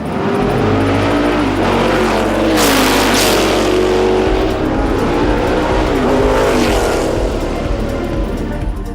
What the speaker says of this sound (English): It's a McLaren M6B, 1968.